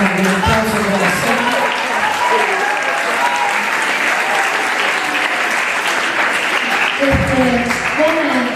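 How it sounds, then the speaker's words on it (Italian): A large crowd at a town award ceremony for a sport-and-integration contest in Melito di Porto Salvo gives loud, steady applause, continuous clapping throughout with a speaker's voice briefly audible at the start and again near the end. "Io vi invito veramente a fare un applauso grosso"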